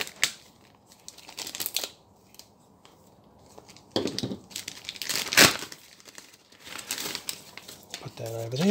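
Plastic bag of MiG-23 model kit parts being sliced open with a blade and then crinkled and squeezed, giving several bursts of close crackling and rustling separated by quieter gaps.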